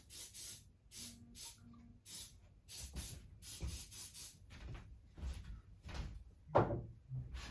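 Glue activator sprayed onto a Squier guitar, a series of short, close hissing bursts in an irregular rhythm, fairly faint, with small knocks and handling noises between them.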